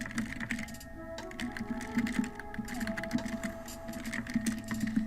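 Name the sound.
typing on a computer keyboard in Word 2013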